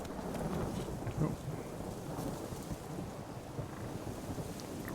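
A thunderstorm in Witcher 3 with steady rain hissing throughout and low rumbling thunder rolling underneath, one slightly stronger swell near the start, no voices.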